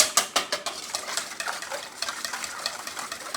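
Eggs, milk and seasoning are whisked in a bowl for fried chicken, giving rapid rhythmic clinking taps of the whisk against the bowl. The sound is close and steady, with no talking.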